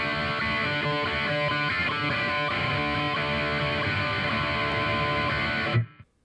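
Electric guitar played through a Fender Tone Master Pro on the Puppet Master preset, gain at 9 and master near 7.5, giving a dense, saturated high-gain tone that rings steadily for about six seconds before cutting off abruptly.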